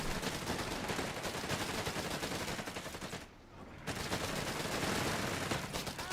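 Sustained automatic fire from an MP40 submachine gun in Company of Heroes 3, a dense clatter of bursts running nearly the whole time, with a brief lull in the middle before the shooting resumes.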